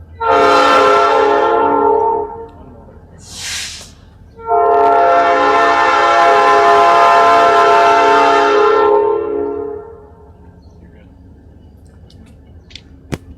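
A train horn blasts loudly in two long, harmonic-rich bursts separated by a brief higher tone, over the low rumble of a passing train.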